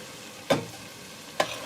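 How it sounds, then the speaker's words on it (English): Canned corn and green beans in a stir fry, a soft steady sizzle with two brief stirring scrapes of a utensil in the pan, close and without talk. "I'm going to add the corn, canned corn, into this. And make a stir fry."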